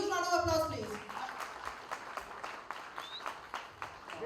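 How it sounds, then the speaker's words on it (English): An audience at a book launch breaks into scattered applause after a voice speaks, with claps continuing at moderate loudness and tapering off. "Can we have a huge round of applause, please?"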